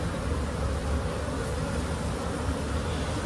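A dense, steady drone of honeybees at an open, thriving hive full of capped brood and stored honey, a close continuous hum with no voices.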